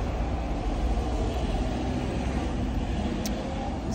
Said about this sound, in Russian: стою на остановке